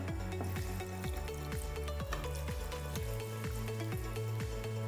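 Water is poured into a one-pot Wayanadan-style South Indian chicken curry on a lit gas stove, giving a loud, continuous sizzle and bubbling hiss with rapid crackles throughout.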